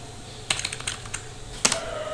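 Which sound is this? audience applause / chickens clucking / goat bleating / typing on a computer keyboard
typing on a computer keyboard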